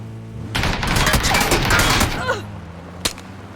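Gunfire in the video game PUBG comes as a loud, dense automatic burst lasting almost two seconds, then a single sharp shot after a short pause.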